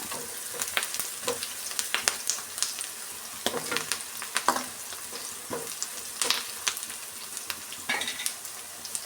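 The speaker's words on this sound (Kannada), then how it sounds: "ಇನ್ನು ಸ್ವಲ್ಪ ಫ್ರೈ ಮಾಡ್ಕೊಬೇಕು" Raw banana palya fries in oil in a pan with a bright, continuous sizzle. Frequent close scraping and tapping stir strokes run throughout, and no voices are present.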